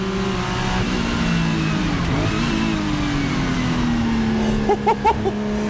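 A Porsche 935K race car engine revs loud and close, the note rising and holding strong, then a few sharp throttle blips near the end.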